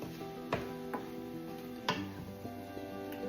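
A spoon mixing cabbage beef soup ingredients in a pot after soy sauce goes in, with a few sharp clinks and taps against the pot over a steady low musical background, no talking.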